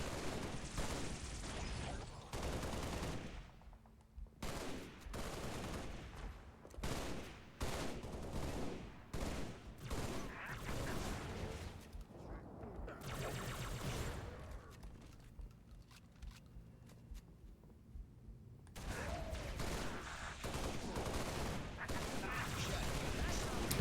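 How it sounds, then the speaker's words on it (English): Rapid weapon fire from a plasma rifle in the game Halo Reach, loud and nearly continuous bursts with brief pauses, close and dense throughout. "the plasma rifle is a lot more powerful now. It has a much faster projectile speed"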